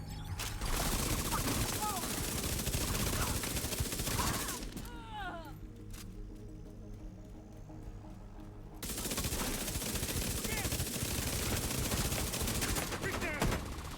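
Rapid automatic gunfire from the shooter game The Division 2 rattles loudly in dense bursts, breaks off into a quieter stretch for a few seconds, then resumes just as heavily.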